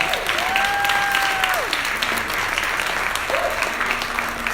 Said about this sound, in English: Can you guys give yourself a round of applause?